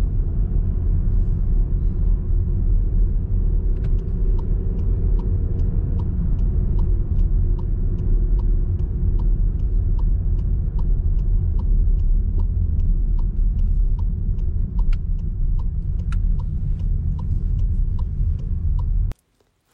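A car rolls slowly through a U-turn during a learner's driving test, its engine a steady low rumble close by, with faint regular ticking like an indicator running throughout until it cuts off at the end.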